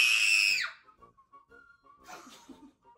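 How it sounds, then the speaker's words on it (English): Children screaming together while letting off steam in a play game, a loud high-pitched burst that lasts about half a second and stops sharply, followed by quiet breathing, soft giggles and a brief second outburst. "Everybody let off steam. Everybody scream."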